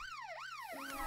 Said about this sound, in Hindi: ये अलार्म है,